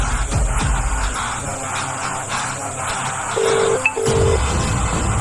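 A phone places a call: soft background noise, then two short, steady ringback tone bursts, close and clear, with no talk.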